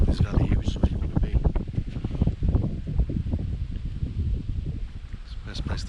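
Wind gusting up a forest valley in New South Wales at sunset, loud buffeting rumbles and rustling that surge and ease throughout, with no talking.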